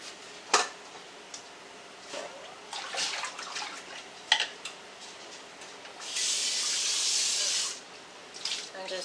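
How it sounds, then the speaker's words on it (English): Water from a kitchen tap rushes briefly into a bowl being rinsed while canning green beans, a steady hiss near the end, surrounded by clinks and handling noises. "I'm just rinsing out the bowl I had earlier."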